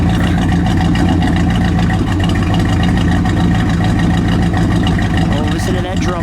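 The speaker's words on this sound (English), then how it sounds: "I'll just listen to it idle for a minute." A 1967 Plymouth Belvedere GTX convertible with a 426 Hemi idles loud and close, a steady lumpy drumming rumble that holds without revving.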